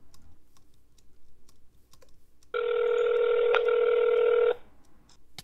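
A single steady telephone ring tone sounds for about two seconds, loud and close in a phone-call scene set in a Minecraft Hunger Games match, with faint background clicks before it and no talking.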